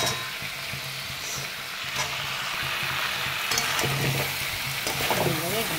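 Potatoes frying in a hot pan, a loud steady crackling sizzle heard up close, with stirring scrapes and knocks growing busier toward the end and a faint murmur of voice underneath.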